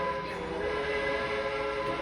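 A steady train-like whistle sound effect plays continuously at an airport baggage claim in Chattanooga as bags arrive, layered sustained pitches over a rumbling background, fairly loud and unbroken.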